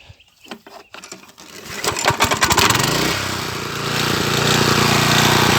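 A garden tiller engine, used for cultivating an onion bed, is pulled to start, with a few sharp tugs and sputters before it catches and settles into a loud, steady running drone close by.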